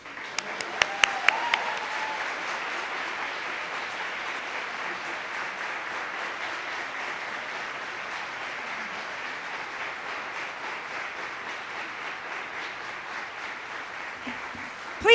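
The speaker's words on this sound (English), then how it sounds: "let's give your 2023 HandUp graduates a great big round of applause" Sustained applause from a graduation audience, opening with a few sharp claps before settling into steady, even clapping that carries on throughout.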